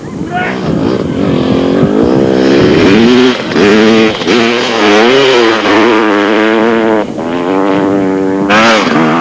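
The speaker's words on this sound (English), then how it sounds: "the two Lesotho office equipment Honda riders were going full blast" Honda racing motorcycles at full throttle in the 1995 Toyota 1000 race scream loudly past, their engine pitch rising and falling through gear changes as several bikes overlap, with a commentator talking over them.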